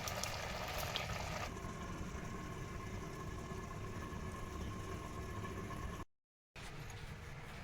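Palak rice cooking in a covered pan over a flame gives a steady, even simmering hiss with a low rumble underneath, constant throughout and broken only by a brief gap near the end.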